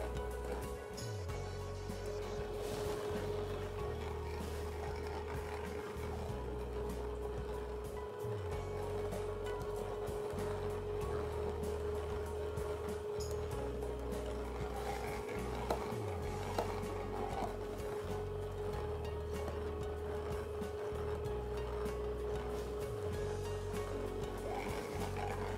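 A KitchenAid Maximum Extraction slow juicer grinds oranges with a low, steady motor drone and a slow repeating churn as fruit is fed through, continuous and fairly quiet with no talking.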